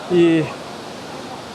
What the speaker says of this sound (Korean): 포창섬에서 제일 유명한 폭포 한번 와봤습니다